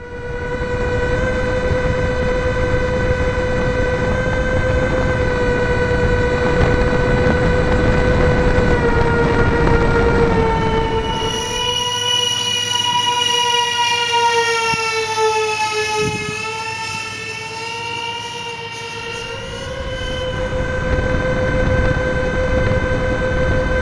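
A radio-controlled C-17 model plane comes in to land, its high electric whine holding steady and then wavering in pitch as throttle changes, fairly loud and close with no talk.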